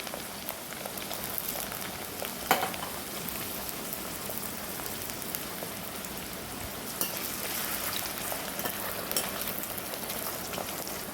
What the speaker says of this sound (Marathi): हे आधी मी थोडे तळून घेणार आहे याच्यामधून, कारण आलू शिजायला खूप वेळ लागतात